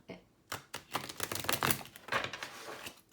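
Tarot cards are shuffled by hand in a run of quick papery riffles and flicks, close and fairly soft, with short pauses between bursts.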